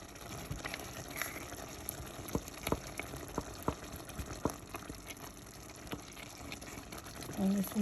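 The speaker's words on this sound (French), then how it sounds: "On laisse mijoter un petit peu." Okra stew with homemade harissa and tebel spice simmering in a pot, a steady low bubbling and watery churn with scattered small pops throughout.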